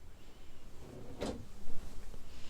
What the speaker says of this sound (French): Juste en dessous, un autre tiroir.